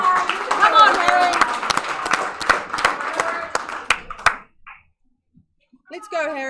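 A powerlifting crowd at a national championship claps and cheers for a lifter, with dense rhythmic clapping and shouts that stop abruptly partway through, followed by near silence and a brief voice.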